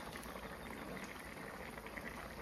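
Chicken boiling in a pot, a steady, close bubbling and simmering wash that runs evenly throughout with no pauses.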